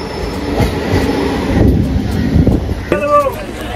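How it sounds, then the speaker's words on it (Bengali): Gede local train pulling into platform 1 at Bidhannagar station, a steady low rumble of rail wagons with clattering wheels, wind buffeting the microphone and brief squealing brakes near the end. "গেদে লোকাল অ্যানাউন্স করে দিয়েছে 7:40 শিয়ালদা থেকে ছেড়ে দিয়েছে, এবার 1 নম্বর প্ল্যাটফর্মে আসছে বিধাননগর স্টেশনের"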